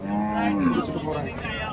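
A pregnant cow moos once, a long, loud, drawn-out low call that rises slightly in pitch, close by and heard alone.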